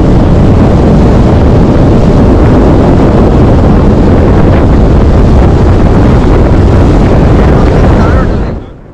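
A motor boat runs with a loud, continuous engine roar mixed with heavy wind buffeting and water rush close to the microphone, and the noise cuts off abruptly at the end.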